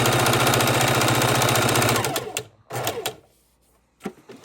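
A sewing machine runs in a steady, fast stitching burst while sewing around a fabric square, then stops, leaving a few scattered clicks and handling knocks.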